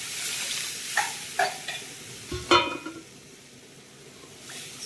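A spoon stirs food frying in a pan over a low flame, making several scraping strokes with a few sharp clinks around the middle, over a soft, continuous sizzle.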